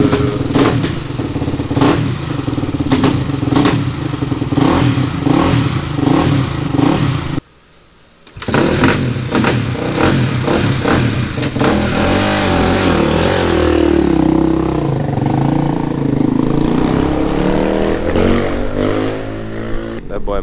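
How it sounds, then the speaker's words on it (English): A KTM 450 SMR supermoto's single-cylinder engine runs close by, thumping and blipping in rough revs, cutting out briefly partway through, then rumbling on with rising and falling throttle. "Sounds like we got the Supermoto running."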